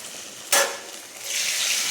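Dhoka lentil cakes dropped into hot oil, giving a sudden loud burst of sizzling that eases, then a steady bright hiss of frying builds again and holds.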